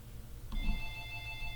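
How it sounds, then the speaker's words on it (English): A telephone starts ringing with a sudden electronic tone, sustained and moderately loud in a quiet room where someone is skinning a toucan, with no speech. "forgot to shut the phone off"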